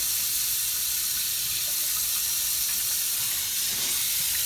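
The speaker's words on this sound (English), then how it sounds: "we can use normal tap water" Tap water runs steadily into a container for mixing a cleaning fluid, a constant hissing splash with no break, close by and without voices.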